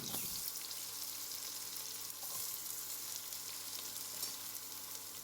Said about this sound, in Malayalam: മീഡിയം സൈസിൽ കട്ട് ചെയ്ത നാല് സവാള അതായത് ഉള്ളി നമ്മൾ അതിലേക്ക് ഇട്ട് കൊടുക്കുന്നു